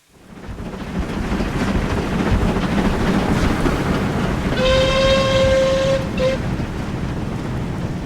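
A Caledonian Railway '1' class steam locomotive in Train Simulator rumbles loudly and steadily throughout. A clear whistle blast sounds partway through and cuts off in a short second toot.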